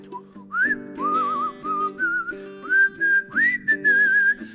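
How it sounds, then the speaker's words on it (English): A man whistles a short, lively tune close up, with clear bright notes in quick phrases over a soft background accompaniment. "I'll whistle a bit"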